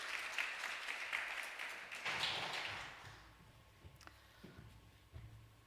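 Audience in a church meeting hall applauding to welcome a speaker, a brisk burst of clapping that swells then fades out after about three seconds, followed by scattered taps and thumps in a quiet room.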